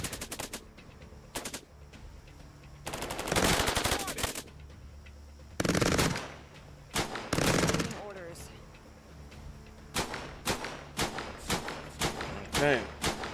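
Turret machine gun fire in the video game Cepheus Protocol, loud rattling bursts repeating in several clusters at varied lengths, with short gaps between, under faint background game ambience.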